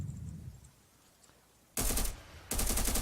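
Automatic weapon fire from a Modern Warfare mod rifle in a video game, an AKS-74U: two loud sustained bursts of rapid shots, near and dominant, following a quiet stretch with a faint murmur of game sound.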